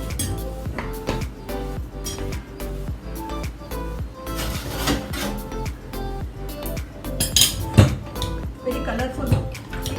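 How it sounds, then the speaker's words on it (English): A pot of vegetable sambhar is stirred with a utensil, giving steady close scraping and frequent metallic clinks against the pot, with a few brighter knocks. "Next, I'll be doing is stir it so that everything gets mixed."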